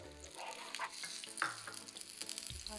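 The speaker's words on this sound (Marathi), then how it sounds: "आता आपण याच्यावर मस्त तूप टाकू आणि खरपूस अशी आपली ही पोळी" Ghee sizzling as a gul poli roasts in a hot pan, a close, steady crackling fry with soft scraping and stirring bursts throughout, no talking.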